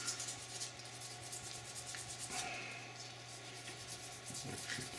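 A gun's finish is scratched and polished by hand, giving quiet, repeated rubbing and scraping strokes at close range with no one speaking.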